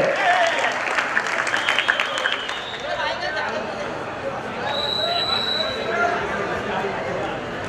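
Spectators at an outdoor men's and women's kabaddi tournament clap together, a loud burst of applause that tapers into crowd murmur, while an announcer keeps talking over the public address.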